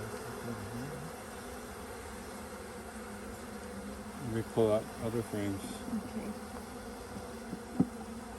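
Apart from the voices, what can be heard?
honey bees buzzing around hive frames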